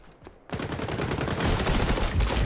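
Rapid bursts of gunfire in the online shooter XDefiant, starting abruptly after a quiet moment and continuing loud and dense as sustained automatic fire.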